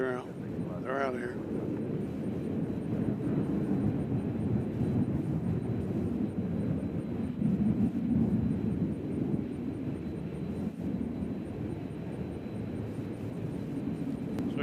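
A departing airliner rumbles low and steady off runway 2 left at Nashville International Airport, a distant continuous roar with wind buffeting, after a brief voice at the start.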